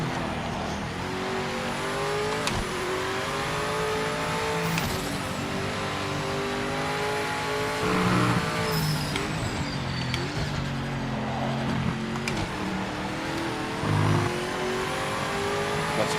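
A race car engine in the Project Motor Racing video game revs and climbs repeatedly through the gears, loud and continuous, with short tire squeals and no talking.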